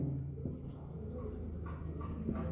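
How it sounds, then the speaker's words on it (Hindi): A pen writing on a board in a classroom, with short, faint scratching strokes in a quiet room and a few slightly firmer marks near the start and end. "अब एक एग्जांपल यहाँ पे लिखता हूं मैं"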